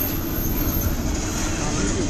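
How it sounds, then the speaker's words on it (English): Big white CSX freight train in Fostoria, Ohio, passing with a steady, loud rolling rumble and clatter of wagons, close by and continuous. "Big train, buddy."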